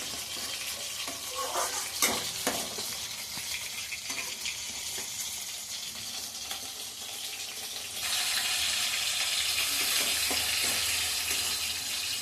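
Masala with ground garam masala sautéed and stirred in a pan for a duck egg curry, a continuous close sizzle with repeated spatula scrapes, growing louder and brighter in the second half.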